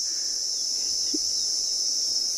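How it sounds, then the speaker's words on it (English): Cicadas buzz in a continuous, steady high-pitched drone on a sunrise safari, constant and fairly prominent with no other sounds standing out. "You can hear those cicadas."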